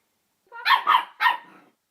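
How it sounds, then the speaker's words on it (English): A tiny dog barks indoors in a bedroom, three quick sharp barks in succession, loud and close, with nothing else around them. "Such a big noise for such a tiny dog."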